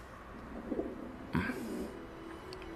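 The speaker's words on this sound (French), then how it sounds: "Et la voilà qui roucoule et fait des mamours à mon toutou" A pigeon coos softly in a dovecote, two low, faint cooing calls around a quiet background hum, the second slightly stronger than the first.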